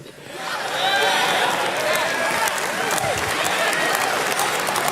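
A large E3 convention crowd cheers, whoops and applauds loudly and continuously at a game presentation, a dense steady roar after a quick swell.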